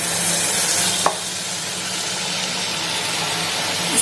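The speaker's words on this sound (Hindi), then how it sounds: "तो चलिए अब हम इन्हें फ्राई करते हैं।" Dhuska batter fries in hot oil in a pan, a continuous loud sizzling hiss with a single sharp clink near the start, and no talking.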